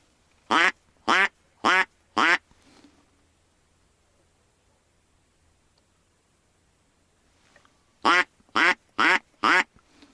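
A voice imitates duck quacks during a spring duck hunt: four sharp, nasal calls in quick succession, a long quiet gap, then four more just like them, close and clear.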